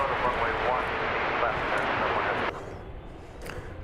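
An American Airlines Airbus A321neo bound for Phoenix rolls for takeoff on runway 18 left: a faint, distant jet rumble under radio chatter that drops off sharply about two-thirds through, leaving a thinner hiss.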